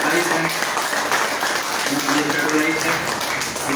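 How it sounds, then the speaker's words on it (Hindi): Audience clapping at a prize-giving event, a steady dense wash of applause with voices and crowd noise mixed in throughout. "तालियां करनी चाहिए।"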